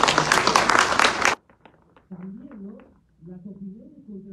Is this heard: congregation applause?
yes